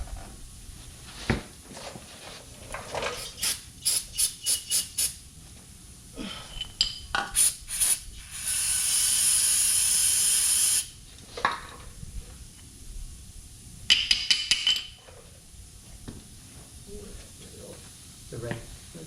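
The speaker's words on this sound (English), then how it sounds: "So we're going to hit this with a little bit of brake cleaner." A burst of brake cleaner sprays onto a brake rotor on a Chevy Colorado or GMC Canyon: one steady hiss of about two seconds, loud and close, among scattered clicks and handling noises, with a few brief later bursts and someone talking.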